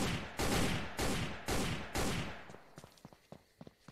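In the video game Sneak Thief, five heavy gunshots fire at a steady rhythm, each booming loudly and ringing out, followed by scattered softer clicks and clatters.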